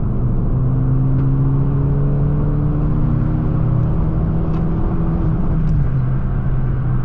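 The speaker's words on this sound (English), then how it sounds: "I'm going to go ahead and do a quick fourth gear pull here to see how it runs." A Ford Focus ST running E55 flex fuel on a port injector controller makes a steady fourth gear pull, its engine drone rising smoothly and continuously from inside the car, loud and alone with no talk.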